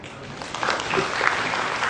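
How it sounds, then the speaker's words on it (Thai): Audience applause welcoming a speaker at a seminar on Thai–Lao–Cambodian border maps, a steady dense clapping that swells slightly midway and carries on throughout. "ก็ขอเสียงปรบมือต้อนรับ"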